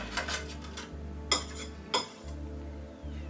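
A palette knife scrapes and clinks against a bowl while mixing orange mulled wine cake batter, with a few sharp taps standing out over a steady low hum.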